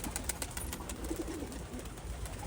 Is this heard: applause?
no